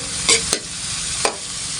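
Small shrimp sautéing in a pan, with a steady broadband sizzle and a few sharp stirring scrapes, fairly close and with no talking.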